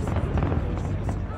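Fireworks burst over a palace party in the video game Assassin's Creed Unity, a dense rumble of overlapping booms and crackles rolling continuously for the moment, loud and close.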